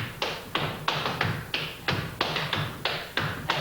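A flatfooting walking step with an added third sound: crisp shoe taps on a hard floor falling in even repeating groups of three, close, clear and alone.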